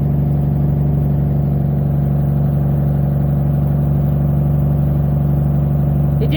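An old Ford F600 truck engine idles close by with a steady, low throbbing rumble, running evenly and unbroken throughout with no voices over it.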